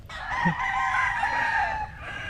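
A rooster crows once, loud and close, in a long sustained call that holds steady before trailing off, with no voices over it.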